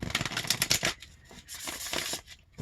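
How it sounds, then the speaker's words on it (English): Oracle cards being shuffled by hand, a quick run of riffling bursts followed by a second softer flurry of shuffling, close and alone. "One more shuffle here."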